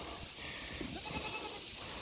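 A nanny goat herd being moved to a new property bleats faintly in the distance, with a few short calls over a steady wash of outdoor noise.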